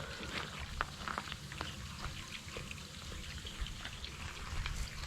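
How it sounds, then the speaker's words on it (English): Acid flushed from a rusty gas tank sizzles on the ground, a steady fizzing crackle with scattered pops, fairly faint and close. "You can hear the acid sizzling in the ground."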